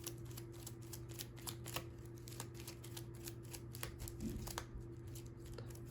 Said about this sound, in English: We actually take all the cards, shuffle them together.